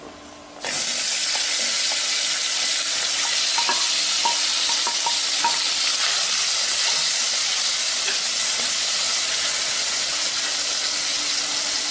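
Onion and tomato sauté in an oiled pan with garlic and asafoetida for a tamarind lentil curry, giving a steady, close, loud sizzle that starts abruptly and holds throughout, with occasional light stirring clicks.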